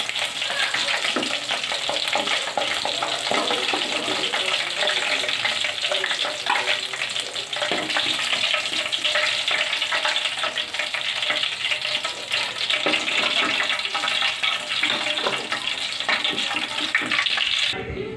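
Chicken wings frying in hot oil give a steady, loud, dense sizzle and crackle that runs unbroken throughout, with no voices.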